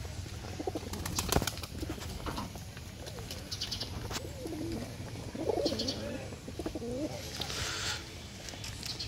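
Pigeons coo in soft, repeated phrases at a rainy loft during feeding, with occasional wing flaps and chirps over a steady wash of rain; a voice speaks briefly.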